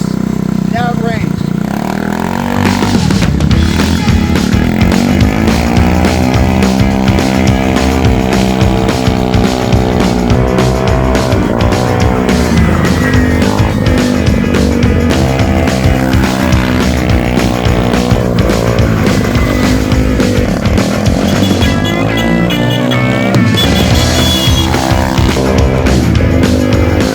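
An abandoned 49cc scooter, restored and fitted with a new exhaust, buzzes loudly and steadily on a rainy test ride, its engine pitch rising and falling with throttle changes while wind noise rushes past.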